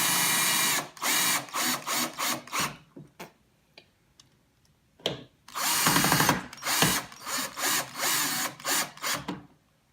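Power drill driving screws in repeated short bursts while a Martian topper is mounted onto an Attack from Mars LE pinball machine, with a ratcheting clutch click and brief pauses between runs.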